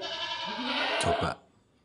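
A female Boer goat in heat lets out a single loud, wavering bleat up close, lasting about a second before cutting off into quiet.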